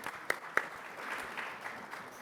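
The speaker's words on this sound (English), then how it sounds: "All right, let's have a little round of applause." Faint applause from a startup conference audience, a soft distant wash of clapping with two sharper claps near the start, fairly quiet throughout.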